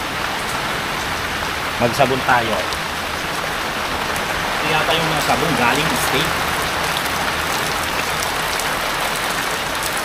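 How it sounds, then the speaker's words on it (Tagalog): Steady rain patters on a surface throughout, with people talking briefly over the constant downpour. "Umuulan eh."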